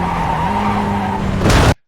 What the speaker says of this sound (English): So there's some screeching here